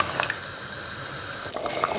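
A pot of veal blanquette sauce simmers quietly with meat and vegetables, giving a faint, steady bubbling hiss with a few soft pops throughout.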